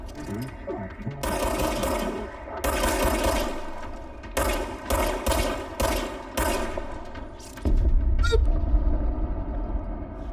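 Semi-automatic service weapon shots from the game Control fire in quick irregular bursts of sharp bangs, several in close succession, with a low rumble and game sounds underneath.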